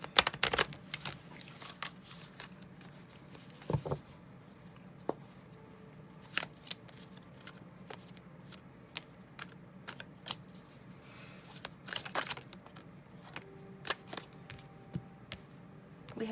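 Tarot cards being shuffled during a love reading, giving soft, irregular flicks and riffles with sharper clicks at intervals, close and fairly quiet, with no talking.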